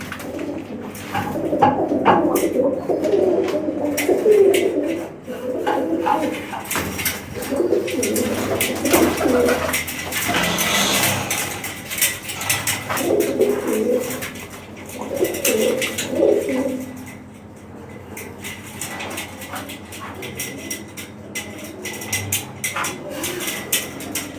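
Flying pigeons in a loft coo repeatedly in low, rolling calls, close and fairly loud throughout, with voices talking at times alongside.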